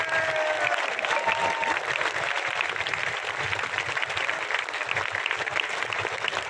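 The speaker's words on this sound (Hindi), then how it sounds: "जोरदार तालियां जो आपके सामने बैठे हैं।" A large crowd in front of a protest stage gives loud, sustained clapping that stays dense and steady throughout, with faint murmurs mixed in.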